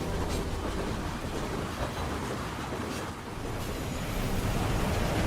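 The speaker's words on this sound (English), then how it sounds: "I always get excited when I see trains." A passing train rumbles past as a steady, loud, broadband roar with faint rhythmic rattling, continuous throughout with no voices.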